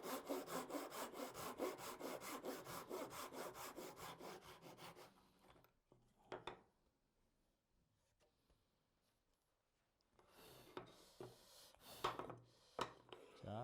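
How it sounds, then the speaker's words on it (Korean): A hand saw cuts wood for a three-way mitre joint in traditional joinery, giving a steady rhythmic run of close rasping strokes, then a quiet pause and a few more strokes. "자, 톱질 마저 해볼게요."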